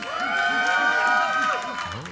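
Esports event audience at a live stream stage cheering and whooping loudly for the competing teams, a sustained roar of many voices filling the whole stretch with a host's voice riding over it.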